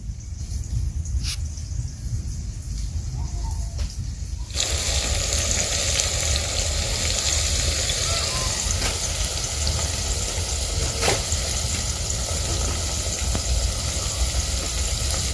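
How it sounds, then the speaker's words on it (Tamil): Onions poured into hot oil and fried for a Hyderabadi green chicken gravy with country chicken, a quieter start then a loud, steady, close sizzle that holds evenly throughout with no talk. "முதல்ல வெங்காயத்தை கொட்டி நல்லா வதக்கிக்கிறோம், பொரிச்சிக்கிறோம்"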